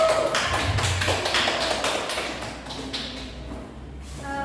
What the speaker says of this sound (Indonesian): Berikan aplaus kepada